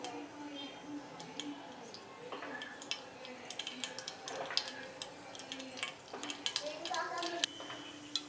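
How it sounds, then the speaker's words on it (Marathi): Mustard seeds pop and splutter in hot oil for an instant sweet-and-sour mango pickle, a steady scatter of sharp little crackles and ticks with a soft sizzle underneath, while a voice talks over the cooking. "आता राई तळतळली आपली चांगली"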